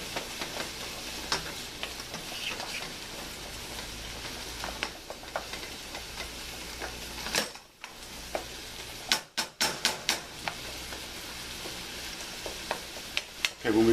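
Ground turkey cooking with onions in a pan, a soft, steady sizzle with occasional utensil taps and scraping as the meat is broken up, plus a few sharp clicks near the end.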